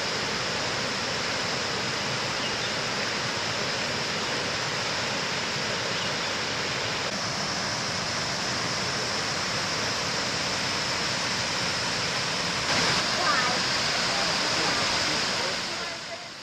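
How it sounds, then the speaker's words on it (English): Kuang Si waterfalls in Laos, a steady, loud rush of falling water that stays constant and fills the whole scene, heard close with no letup. "I joined a tour of the Kuang Si waterfalls"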